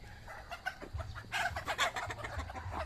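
Chickens cluck repeatedly nearby in a rural yard, a busy overlapping run of short clucks with a brief crow-like call, at moderate volume without speech.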